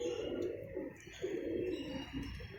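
Pigeons cooing in soft, repeated low rolling phrases, several overlapping coos in steady succession against a faint background hiss.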